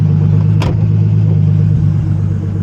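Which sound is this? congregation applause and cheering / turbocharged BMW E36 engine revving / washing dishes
turbocharged BMW E36 engine revving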